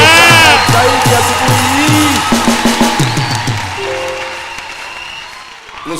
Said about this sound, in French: applaudissez le plus fort encore une fois ce matin